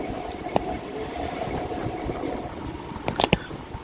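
A Howrah–Tarakeswar local train pulls into a station with a constant low engine and carriage rumble, a few sharp clanks, and a burst of metallic clatter near the end.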